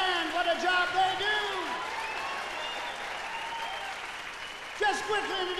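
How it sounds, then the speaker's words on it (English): Audience applause for a band at a theater concert, steady clapping with a few whoops, while a voice talks over it throughout and a fresh burst of cheering near the end. "How about a round of applause for our band?"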